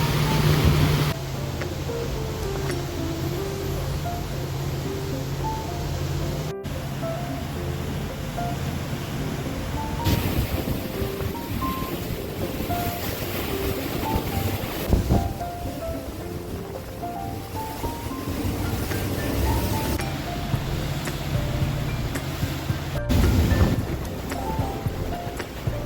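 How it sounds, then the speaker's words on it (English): Choppy water slaps and washes steadily under a moving boat on the Hudson River, with a following sea and incoming tide stirring up chop; wind buffets the microphone throughout, and no one speaks. "We've got a following sea and the tide's coming in, so stirring up a little bit of a chop here on the river."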